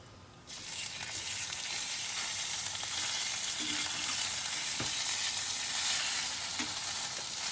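Steak frying in oil in a pan, a loud, steady broadband sizzle that bursts in after a brief quiet start and holds with occasional pops.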